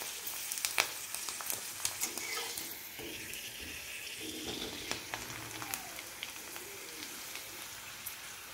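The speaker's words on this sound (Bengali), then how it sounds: "দিয়ে এইভাবে ভেজে নেব" A rice-starch papad fries in hot oil with a fine, crackling sizzle, soft and continuous with scattered sharper pops, close but quiet, with no talking.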